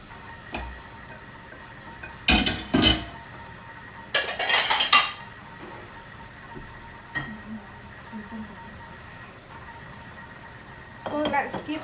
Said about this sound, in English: So let's give everything a gentle stir because your tofu is soft.